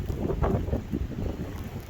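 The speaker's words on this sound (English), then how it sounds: "But it's super windy." Strong wind during a multi-day blizzard buffets an RV, heard as a low, rumbling roar with gusty surges and microphone wind noise, continuous and close.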